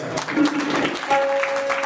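Audience clapping at a devotional kirtan gathering, a short even patter of hands with a faint tonal hum behind it.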